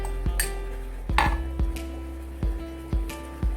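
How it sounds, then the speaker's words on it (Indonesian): A fork whisking egg in a bowl during a lab exercise on emulsion formation, with a series of distinct clinking taps against the dish at a steady, somewhat irregular rhythm, close and moderately quiet. "Ini mengocok telur"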